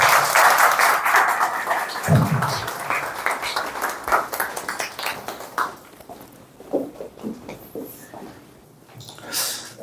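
An audience at an investment class claps to welcome a speaker, with dense applause at first that thins into scattered claps and some shuffling.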